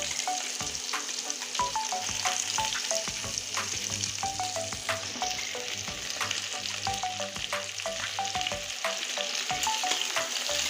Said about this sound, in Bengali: আলু আর পেঁয়াজ একদম লাল লাল করে ভেজে নেব আমি যতক্ষণ পেঁয়াজ লাল না হবে এতক্ষণ আমি ভাজতে থাকবো